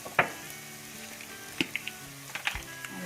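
Ingredients for prawn biryani fry in a hot pan with a steady close sizzle, broken by a few sharp clinks and scrapes as a spoon stirs them.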